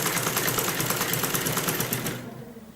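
Sewing machine stitching the hem of a salwar, a fast even rattling run of needle strokes that stops abruptly about two seconds in, leaving quiet room tone.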